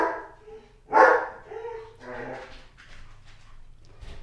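A dog barks loudly at close range, then lets out whimpering yips and whines, with a person talking over part of it.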